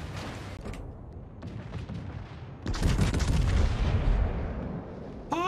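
Rapid gunfire and explosive bursts in a chaotic multiplayer shooter game, loudest from the middle of the clip to the end, a dense barrage of shots with deep booms and no talk over it.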